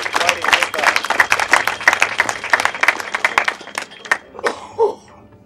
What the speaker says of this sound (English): just like you to give one more round of applause for him